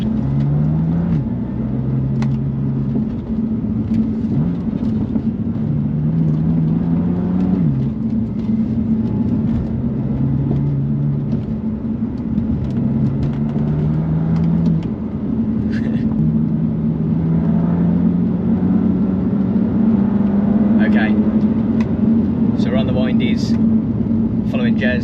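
A Porsche 991 Carrera S is followed along the winding Duke's Pass road, heard from a trailing car as a loud, steady engine drone rising and falling through repeated gear changes, with people talking over it.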